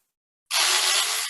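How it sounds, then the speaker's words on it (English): A power ratchet whirs in reverse for under a second while backing out brake caliper bolts during a front rotor and pad job, a steady close buzzing that starts abruptly after a short silence. "Make sure my ratchet is going in reverse. And let's take these bolts out."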